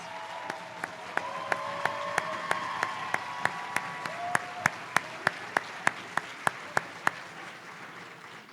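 Applause fills the room for AmeriCorps program directors at a Wisconsin opening ceremony, a continuous crowd wash with one close clapper's crisp, evenly spaced claps repeating throughout, and a little chatter underneath.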